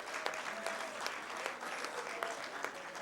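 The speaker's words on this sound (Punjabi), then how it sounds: "ਤੁਹਾਡੇ ਸਾਰਿਆਂ ਦੀਆਂ ਤਾੜੀਆਂ 'ਚ ਮਾਣਯੋਗ ਸ਼ਫੀਕ ਚਿਸ਼ਤੀ ਸਾਹਿਬ" Audience claps steadily at a Punjabi sports award ceremony during an international Punjabi conference in Lahore, dense even applause filling the room without pause.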